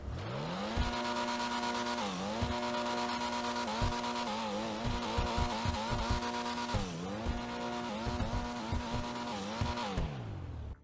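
A Pfister Comet SR sports car in GTA Online revs hard through repeated gear shifts with tire squeal, a loud, steady engine drone that climbs and drops in pitch over and over, with no talking.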